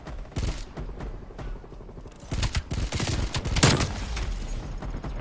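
Bursts of MP5 submachine gun fire in a Call of Duty match, rattling in short rapid strings with a few scattered single reports, moderately loud against quieter game ambience, with no talking.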